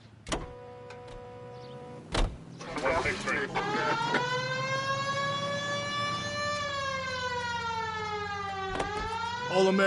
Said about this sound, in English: We have a siren.